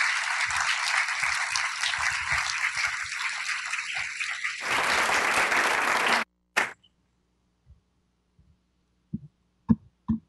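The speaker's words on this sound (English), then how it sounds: "I think they just also deserve a round of applause" A crowd at a city council meeting claps steadily and fairly loudly for about six seconds, then the applause cuts off sharply. After it a few faint scattered knocks sound in a quiet room.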